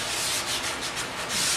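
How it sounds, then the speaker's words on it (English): Wood being hand sanded with a sanding pad during a desk build, working down to 240 grit; a steady close scratchy rubbing with slight rhythmic surges of strokes, no talking. "And I'll hand sand down to 240."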